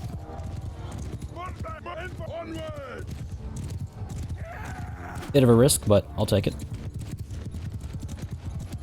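Horses gallop in the video game Mount & Blade II: Bannerlord, with a continuous rumble of hoofbeats and battle noise, a horse whinnying and someone talking over it.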